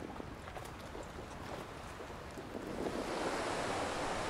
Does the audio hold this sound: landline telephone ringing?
no